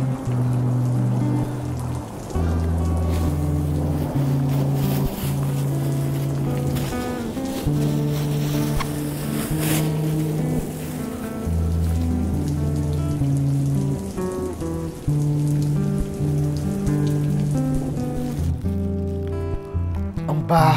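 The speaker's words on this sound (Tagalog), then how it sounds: "Ang lakas ng ulan." Heavy rain pours down in a steady, continuous hiss for the whole stretch, set under a loud, sustained musical backing.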